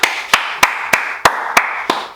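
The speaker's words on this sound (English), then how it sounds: "Clap it up for that" Seven crisp, evenly spaced hand claps land about a third of a second apart, close and loud over a steady background hiss, with no talking.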